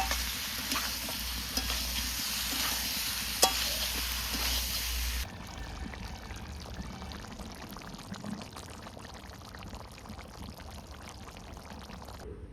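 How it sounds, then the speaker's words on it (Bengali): Fried chicken being sautéed with mixed vegetables in a pan, a soft steady sizzle with occasional stirring scrapes and a sharp clink, fairly quiet; a low hum drops away partway through, and no one speaks. "এবার সবজির সঙ্গে সুন্দর চিকেনটাকে কষিয়ে নেবো।"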